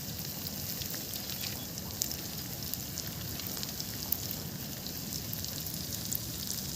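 Food for a New Year picnic, including a gravy dish, sizzles in a cooking pot. A steady, dense hiss with faint scattered pops runs throughout, fairly close, with no voices.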